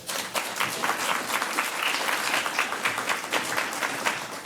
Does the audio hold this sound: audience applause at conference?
yes